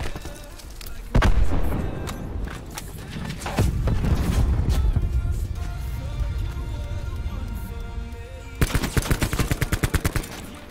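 Gunfire in the Blackout battle royale, with a few loud scattered shots followed by a sustained burst of rapid automatic fire near the end, set over a continuous clatter of game effects.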